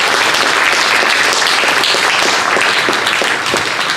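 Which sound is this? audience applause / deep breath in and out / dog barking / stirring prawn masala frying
audience applause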